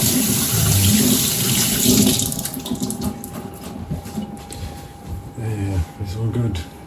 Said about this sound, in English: Wash the raw filthy peel off my hands.